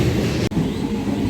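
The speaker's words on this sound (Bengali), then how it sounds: "ট্রেন এসে গেছে আমাদের।" A local train rolls through a station with a loud, continuous low rumble and rattle, a brief dip midway, and no voices.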